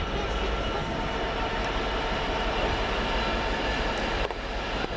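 Locomotive 43320, an HST power car, departs northbound toward Scotland with a steady, loud rumbling roar of engine and wheels on rails, close by and continuous throughout.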